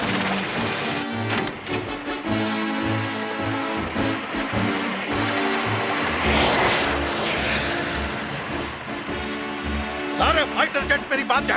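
Cartoon fighter jets roar past with loud, sustained engine noise, joined by a crashing impact and a high whine, while music plays underneath.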